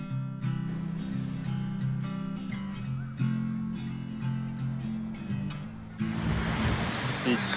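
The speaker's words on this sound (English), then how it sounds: "I found a little beach. I think it's called Sand Beach." Ocean waves wash into the small cove at Sand Beach in Maine as a steady, moderately loud surf hiss that swells stronger near the end, with voices and some background sound mixed in.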